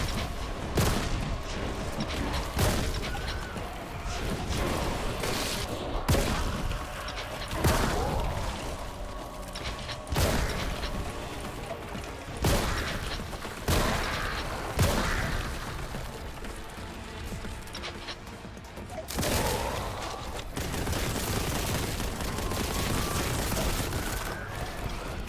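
Repeated booming shotgun blasts from Warhammer 40k Boltgun, a retro-style first-person shooter, fire in irregular bursts over continuous loud game noise and effects, with no voices.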